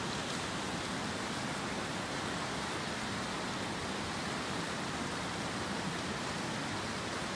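Rainwater runs off and drains away just after a rain shower, producing a steady, even rushing hiss that holds at one level throughout, with no voices.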